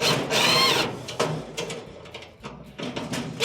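Close, loud bursts from a power driver tightening screws on a clothes dryer's heater assembly, with whirring runs broken by brief pauses and metallic clicks.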